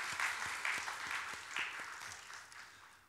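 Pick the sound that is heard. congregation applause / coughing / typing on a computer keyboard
congregation applause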